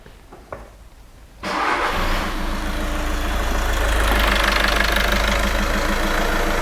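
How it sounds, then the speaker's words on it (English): A car engine cranks briefly and catches, then settles into a loud, steady idle rumble that continues without a break. "So let's go start the engine."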